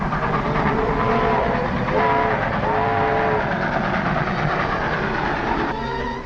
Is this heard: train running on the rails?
yes